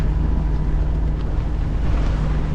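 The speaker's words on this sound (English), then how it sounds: "motor sailing" A sailboat motor-sails along the Baja coast of Mexico's Pacific, its engine droning in a steady low hum under constant wind and water rush, loud and unbroken throughout.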